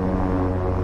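A King Air 350 turboprop engine in the X-Plane 11 flight simulator runs steadily at test RPM during a propeller check, giving a continuous loud drone with a low hum throughout and no talking.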